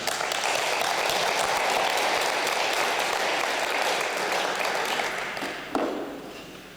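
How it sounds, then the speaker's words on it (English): Applause at an international school literacy celebration in northern Japan, a steady dense round of clapping that holds for several seconds, then thins and fades out near the end. "Let's give her a round of applause."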